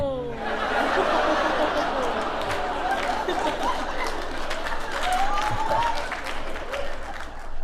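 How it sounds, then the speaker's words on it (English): Audience at a stand-up comedy show breaks into sustained applause mixed with chatter and scattered laughter, a steady dense crowd wash that stays even throughout. "It's not a huge applause break"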